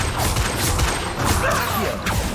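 A Confringo fire-blast spell in Hogwarts Legacy, a dense continuous burst of crackling, popping impacts and whooshes, loud and busy throughout with no pause.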